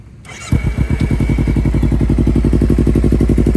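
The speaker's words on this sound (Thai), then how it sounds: "ฟังเสียงเครื่องกันนะครับ" A 2015 Kawasaki Z300 motorcycle starts after a brief starter whir, then settles into a loud, steady, rhythmic idle with even exhaust pulses, close by, no talking.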